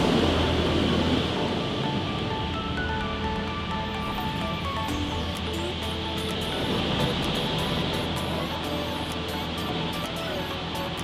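Touch-free car wash rinse cycle spraying a Tesla Model 3, heard from inside as a steady, loud broadband roar of water jets and blowing spray that continues without a break.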